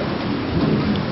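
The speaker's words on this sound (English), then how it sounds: "Looks like it's raining," Steady rain hisses with a deep rumble of thunder rolling underneath, loud and close throughout.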